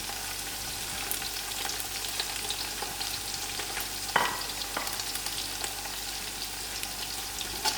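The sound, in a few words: biryani mix, thyme and curry leaf frying and stirred with browned onions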